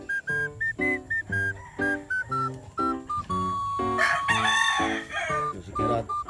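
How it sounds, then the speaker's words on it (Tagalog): A fighting rooster crows loudly and repeatedly nearby, several cock-a-doodle-doo calls in quick succession with a whistle-like tone partway through. "So, si Kerat manok natin mga ka-FX."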